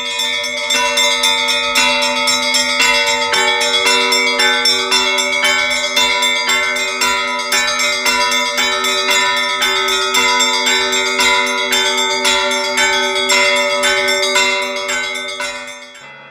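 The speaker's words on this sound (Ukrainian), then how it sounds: "мы начали звонить в современные колокола, которые вы можете увидеть на любой из колоколен" Modern church bells ring from a belfry, loud and close, with overlapping strikes layering into a continuous shimmering peal that holds for the whole stretch before easing slightly at the end.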